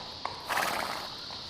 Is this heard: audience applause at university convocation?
no